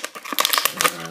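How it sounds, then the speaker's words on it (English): Tape is peeled off action figure packaging, making close crinkling and crackling bursts in quick, irregular bursts, with a voice speaking over part of it. "There's some tape that I'm dealing with there."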